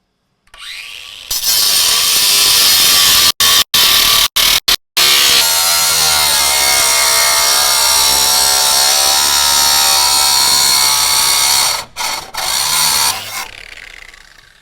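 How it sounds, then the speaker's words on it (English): A cutting wheel grinds through the metal supports inside a Sprinter 144 van during an S&B Wideout install, a loud continuous whine that holds steady for about ten seconds, broken by a few brief pauses near the start and end. "We're going to use our cutting wheel. We're just going to cut straight lines."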